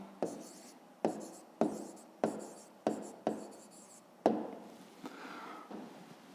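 Pen or chalk strokes tapped and scratched out by hand while writing a maths answer, seven or eight sharp distinct hits in a steady rhythm, close and fairly loud, with no talking.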